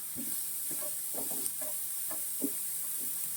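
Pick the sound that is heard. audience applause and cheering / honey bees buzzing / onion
onion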